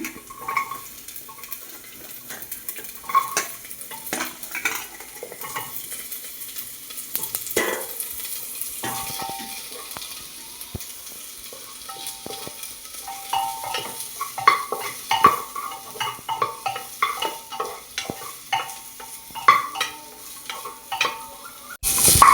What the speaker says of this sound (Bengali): রসুন কুচির পর দিয়ে দেবো একে একে সবজিগুলো দিয়ে দেবো